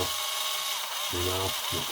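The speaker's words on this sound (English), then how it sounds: "You don't have to use power tools if you don't have them." Cordless power tool driving screws into an RC car differential during a rebuild of an Arrma Outcast 6S, two short whirring bursts separated by a pause, close and fairly loud.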